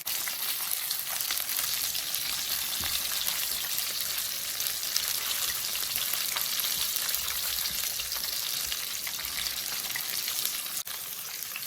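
Food frying in oil that is too hot, a loud, dense crackling sizzle with constant popping spatter, steady throughout with no talk.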